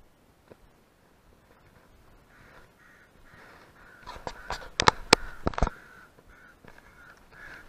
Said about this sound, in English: Got my infamous dog over here, Grace, getting dive bombed by a crow